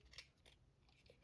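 Scissors snip paper for a junk journal in a few quick, close, quiet cuts with no talking.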